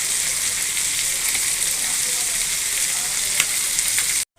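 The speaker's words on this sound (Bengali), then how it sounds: "এই যে এক চুলায় চিকেনটা কষাচ্ছি," Chicken is stir-fried in a pan on the stove, making a strong, continuous sizzle with faint stirring noises and a brief cutoff near the end; no voices.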